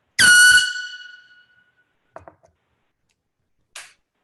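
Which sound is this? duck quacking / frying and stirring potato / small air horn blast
small air horn blast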